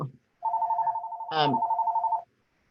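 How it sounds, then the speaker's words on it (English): A house telephone rings with a steady electronic warbling tone for about two seconds, close and clear, briefly overlapped by a speaking voice midway. "that's my house phone, which I cannot turn off"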